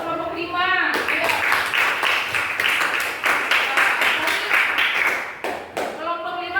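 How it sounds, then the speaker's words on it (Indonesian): Steady group clapping from the participants of group 5 at an indoor class session, loud and sustained for several seconds, with a voice speaking briefly at the start and end. "Tepuk tangan untuk semua peserta kelompok 5."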